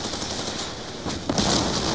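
Rapid automatic gunfire from the Black Ops 2 video game during a convoy escort battle, a dense, loud, continuous barrage of shots with no pauses.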